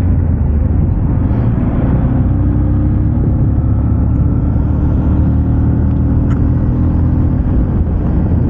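Steady road noise from a car driving along a national highway, a continuous low rumble and whir of engine and tyres, loud and unbroken with no talk.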